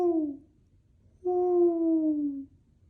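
A human voice imitates an owl, giving two hollow, falling hoots: a short one, a pause, then a longer drawn-out call, moderately loud and close.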